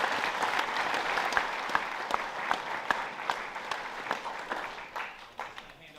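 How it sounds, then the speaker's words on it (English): Students at a full school assembly clap as a crowd, the dense applause thinning toward the end into scattered distinct claps before fading. "So let's give them a round of applause."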